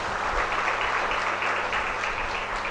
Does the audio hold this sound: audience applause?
yes